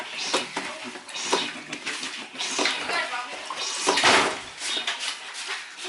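Water pours and splashes into a blender in uneven bursts, close up, over spinach and pineapple, with faint rattling of the container and a voice briefly in the background.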